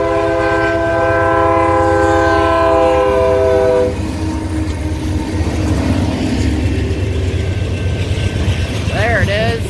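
CN mixed freight train passing close by, its multi-tone horn blaring for several seconds over a heavy rumble, then the rolling clatter of cars continuing, with a voice speaking near the end.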